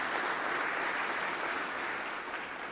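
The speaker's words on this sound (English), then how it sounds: "The applause is crazy." Thick, sustained clapping from a chamber audience at a State of the State address, heard at a distance as a uniform hiss of hands that slowly tapers off.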